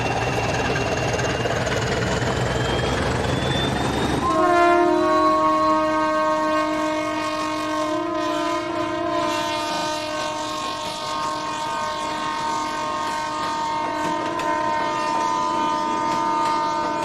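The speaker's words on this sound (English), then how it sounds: "we see 1411 departing Tua with the 1706 to Porto on 24th of June 2001" Portuguese diesel locomotive 1411 pulls out of Tua with the 1706 to Porto, hauling red and white Schindler coaches. A rising engine note gives way to a long, steady, loud horn-like drone that holds through the departure, with no voices.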